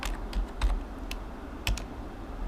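Typing on a computer keyboard: a handful of light, close key clicks spaced irregularly over a faint steady background hum.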